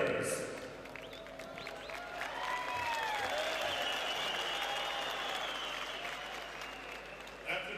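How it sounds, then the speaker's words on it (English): Audience applause for two boxers after a ten-round fight in Tashkent, Uzbekistan, a steady wash of clapping filling the arena with shouts and cheers rising through it, under a ring announcer's amplified voice. "let's give a nice round of applause out here for both of these fighters"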